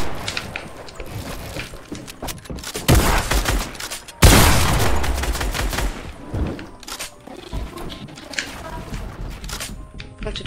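Fortnite gunfire crackles in rapid bursts, with dense loud volleys and a sharp boom midway, then scattered shots and clatter amid game noise.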